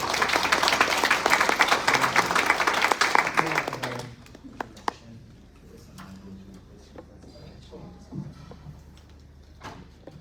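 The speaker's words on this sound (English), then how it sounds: "give Professor Anderson a big round of applause" An audience applauds Professor Anderson at a talk. Dense, loud clapping fills the first four seconds, then fades to scattered claps and faint room noise.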